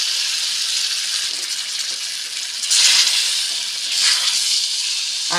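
A ginger, fennel and coriander paste hits hot oil in a pan for a cabbage dish and sizzles loudly. The crackling stays steady and close, rising in two bursts as the paste settles, with no talking.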